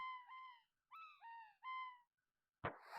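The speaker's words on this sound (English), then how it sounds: "I love the bird sounds." An owl hoots three times in a short, evenly spaced series of clear, tonal calls, fairly faint and isolated against silence, followed by a brief burst of noise, in a Chrono Trigger game scene.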